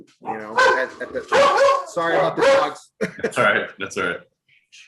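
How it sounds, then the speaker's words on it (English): Dogs barking and yipping indoors in repeated loud bursts, mixed with someone talking reassuringly over them. "sorry about the dogs."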